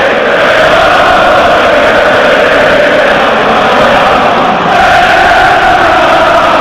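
Newcastle United fans singing and chanting in a football stadium, a dense, loud, sustained roar of crowd voices that fills the whole stretch with only a brief dip.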